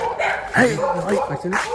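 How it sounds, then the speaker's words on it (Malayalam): A small dog gives quick, high yappy barks and whimpering yips, close and fairly loud, running almost continuously. "ആ നായി ചെറിയ നായി"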